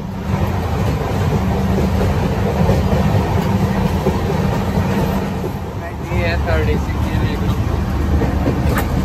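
A Duronto Express train at an Indian railway station: loud continuous rumble and rolling clatter of the train close by, with voices talking over it throughout.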